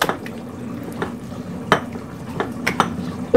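Brioche dough ingredients are stirred in a bowl, a utensil scraping and knocking against the sides in irregular clinks, close and moderately loud with no talk.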